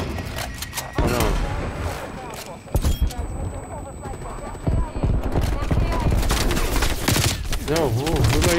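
Bursts of gunfire from a C58 assault rifle in Call of Duty Cold War, loud and clustered, ring out amid game sound effects while a player talks over much of the action.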